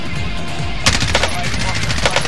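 Shotgun fire during a Warzone match, several sharp, loud blasts in quick succession after a quieter opening, with a player's voice in the background.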